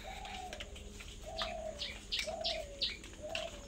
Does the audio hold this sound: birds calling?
yes